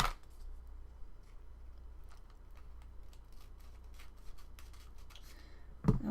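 Scissors snip through washi tape made from magazine paper in a quiet room, a quick series of light, close cuts and paper rustles, ending with a louder handling thump.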